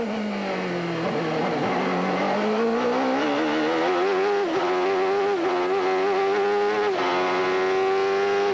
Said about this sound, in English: we can get an idea of the gear changes.